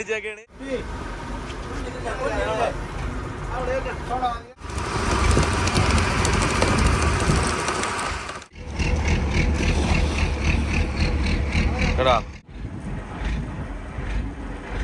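A fishing boat's engine runs at sea during deep-sea tuna fishing, a loud, steady rumble with wind noise that drops out briefly between sections while people talk over it.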